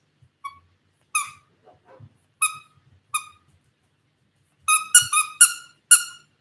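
A squeaky dog toy squeals in short, bright bursts: a few spaced squeaks, then a quick run of four or five near the end, close by with no talking.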